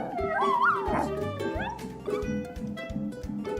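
A dog yips, whimpers and gives short howl-like cries over a musical backing with a bass line, lively and fairly close, with no talking.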